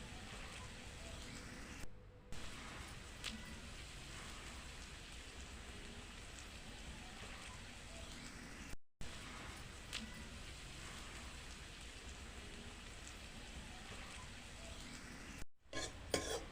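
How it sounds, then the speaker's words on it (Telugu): Onions frying and being stirred in a pan for village-style chicken biryani, a steady dense sizzle running throughout with brief breaks, loud and close. "ఉల్లిగడ్డలు బెల్లం కలర్లు వచ్చేటట్టు కలుపుకుంటూ ఉండాలి"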